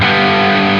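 Mesa Mark IV amp model on an Axe-Fx with the overdrive at 5 and the input drive cranked: a brief, loud, thick burst of heavily distorted electric guitar that holds steady for under a second, heard alone.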